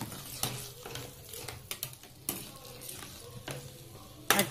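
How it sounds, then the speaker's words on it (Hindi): Paneer is stirred in a pan of sauce and a little water for chilli paneer, with a soft sizzle, scattered scraping strokes and a louder clank of the utensil at the end. "अच्छे से मिक्स कर लेंगे"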